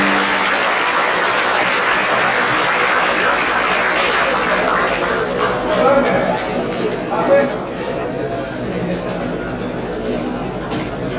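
Audience applause for the judges at a school English speech competition in Medan, a loud sustained clapping from a crowd that thins toward the end amid chatter and some laughter.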